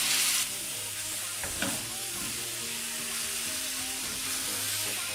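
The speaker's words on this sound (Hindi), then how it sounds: "ये हमने चिकन ऐड कर दिया है इसमें।" Boneless chicken pieces sizzle and fry steadily in a hot pan for tawa malai boti, with a brief stir or clatter near the start, close and continuous with no talking.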